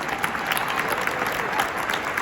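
Steady, dense audience applause fills the whole stretch at an awards event, a continuous wash of clapping hands without pauses or distinct voices.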